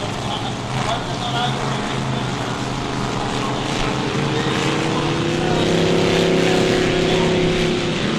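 Supercharged racing powerboat engines roar out on the water at a regatta, a loud sustained drone whose pitch climbs as the revs rise, with commentary over it.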